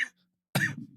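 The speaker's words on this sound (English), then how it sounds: "I've had this cough since Halloween, pretty much." A man with a lingering cough gives one close, rough cough after a short quiet pause in a conversation.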